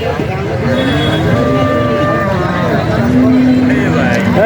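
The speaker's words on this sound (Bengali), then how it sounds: "আমাদের ফকিরহাট কলেজ মাঠে অনেক গরু উঠেছে" Cattle moo loudly and repeatedly at a busy traditional cattle market on the Fakirhat college ground the day before Eid ul-Adha, with long, drawn-out calls close by over crowd chatter and people talking.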